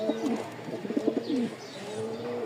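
A pair of Lal Sundori pigeons cooing close by, repeated soft throaty coos in uneven bursts, with a faint background murmur.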